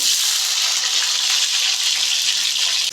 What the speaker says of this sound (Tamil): கடாயில் எண்ணெய் ஊற்றிட்டு சின்ன வெங்காயம் போட்டுக்கோங்க